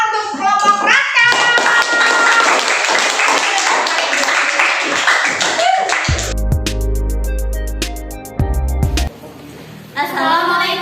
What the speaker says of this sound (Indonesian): Kita beri tepuk tangan untuk kelompok Raka.